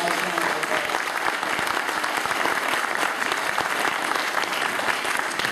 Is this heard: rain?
no